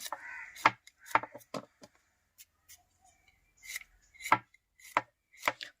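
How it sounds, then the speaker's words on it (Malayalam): A knife chops through thick aloe vera leaves on a board in a crisp, uneven series of close, sharp strikes with short pauses, prepared for an Ayurvedic hair oil. "ഇത് ഇങ്ങനെ അങ്ങ് അരിഞ്ഞാൽ മതി കേട്ടോ"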